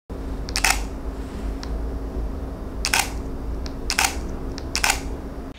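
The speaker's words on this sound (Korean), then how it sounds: "니콘 ZFC의 가장 큰 장점 중 하나는 바로 찰칵하는 셔터음이라고 해도 과언이" Nikon Zfc mirrorless camera firing single shutter releases, four crisp close clicks spaced irregularly over a quiet room hum.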